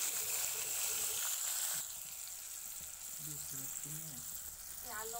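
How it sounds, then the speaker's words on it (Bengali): Small potato pieces fry in hot oil with cumin seeds, a steady sizzle that drops to a quieter, softer hiss partway through, with a few faint clinks near the end. "তেলের মধ্যে আলুটা একটু হালকা করে ভেজে নেব।"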